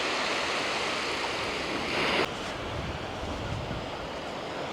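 Waves washing onto the beach along the Kapiti Coast between Paraparaumu and Waikanae, a steady, continuous surf roar with wind noise on the microphone and a brief louder gust partway through.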